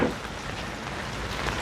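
Steady rain falling outdoors, a dense, even hiss of drops that stays constant and moderately loud throughout, with no voices.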